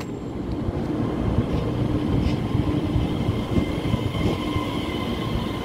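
A twelve-car EMU3000 electric multiple unit pulls into Shulin station in Taiwan and stops, its steady, close rumble of wheels and motors holding at an even level throughout.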